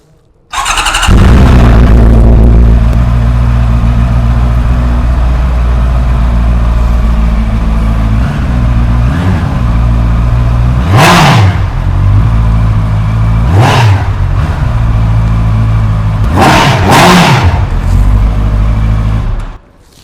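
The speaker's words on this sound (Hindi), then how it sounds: "कुछ इस तरह का एग्जॉस्ट नोट मिल जाता है विद द CBR 650R" A 2025 Honda CBR 650R with an inline-four engine idles loudly up close, then revs sharply several times, each blip rising to a high-pitched howl before dropping back to a steady idle.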